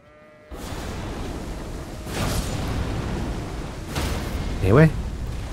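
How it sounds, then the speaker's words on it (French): A goat in the video game Elden Ring lets out one short, sharp bleat near the end, following dull booming impacts and a steady rumble of game sound. "Je me fais bolos par une chèvre."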